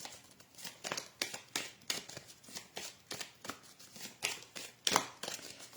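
A deck of oracle cards is shuffled by hand, making rapid, crisp riffling and flicking bursts in an even rhythm. The sound is close and soft, with no talking.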